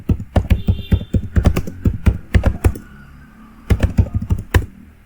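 Close, loud bursts of typing on a computer keyboard while entering text in the nano editor on Linux, rapid clattering keystrokes in two runs separated by a brief pause, with no talking.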